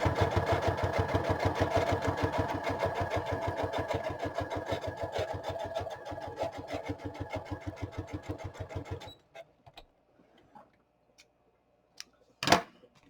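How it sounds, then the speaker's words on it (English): A sewing machine runs a straight stitch across a repurposed file folder: about nine seconds of steady, rapid needle chatter up close, then it stops, leaving a few faint clicks and one sharp knock. "I can still run a straight stitch all the way across"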